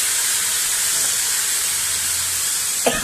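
Soya chunks hit a pan with a little oil for chili soya, giving a loud, steady sizzling hiss that runs evenly for three seconds, ending with a small clink.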